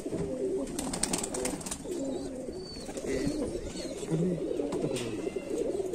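Pure Madeen pigeons from Rampur cooing in a loft, a low continuous burble of coos with occasional chirps and flutters, soft and close.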